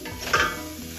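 Mushrooms sizzling in a pan while being stirred, during oil-free cooking, with a short burst of stirring scrape and hiss near the middle over a steady background crackle.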